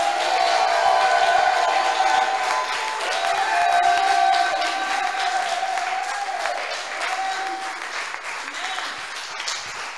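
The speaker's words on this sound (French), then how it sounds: "Si c'est pour quelqu'un, donne-moi une forte acclamation." A church congregation cheers and applauds loudly, with sustained clapping, shouts and a long ringing vocal cry over the crowd, fading gradually toward the end.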